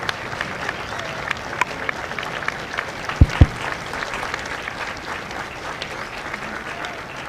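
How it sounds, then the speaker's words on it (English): Applause from a graduation audience at MCRD San Diego honoring Marine veterans, a steady moderate wash of clapping with a couple of sharp louder claps near the middle. "Ladies and gentlemen, a round of applause for their dedicated service to Corps and country."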